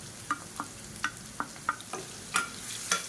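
Three large garlic cloves and onions sauté in a pan over a soft, steady sizzle, broken by about eight distinct spatula taps and scrapes at an uneven pace.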